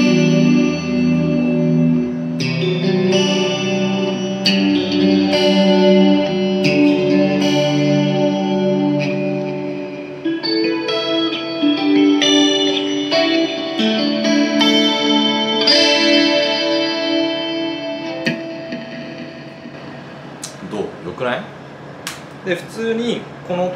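Clean, shimmering Stratocaster-style electric guitar chords with all three pickups on ring out with chorus-like sparkle, fading and then picked again with softer notes toward the end.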